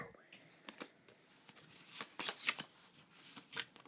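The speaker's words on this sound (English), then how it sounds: "I'm not a very good shuffler." Pokémon trading cards being shuffled by hand, a quick series of close, crisp riffling bursts and soft flicks, fairly quiet and irregular in rhythm.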